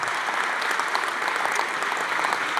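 A benefit gala audience applauds dense, sustained clapping from a large crowd, steady and loud throughout without a break.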